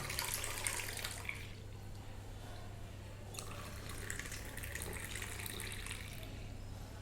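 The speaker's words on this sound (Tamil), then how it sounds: "நம்ம அதை எடுத்து இந்த ஒரு கப்பில் ஊற்றிப்போம், கிளாஸில் ஊற்றிப்போம்" Freshly brewed masala milk tea poured back and forth between a cup and a glass to cool and froth it, making a continuous splashing liquid stream over a steady low hum throughout.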